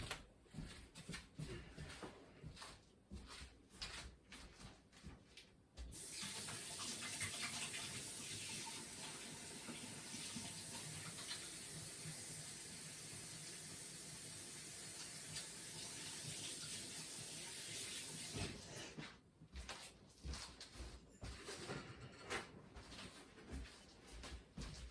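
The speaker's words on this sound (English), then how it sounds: "let me go wash my hands off and I'll be right back" Running tap water while hands are washed in a kitchen sink during sausage making: a steady close rush of water for most of the stretch, with quieter handling and clatter before and after.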